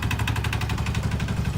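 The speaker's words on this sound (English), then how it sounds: "That engine don't sound too..." A mid-sized engine runs steadily with a rough, pulsing idle, close and fairly loud, with no voices over it.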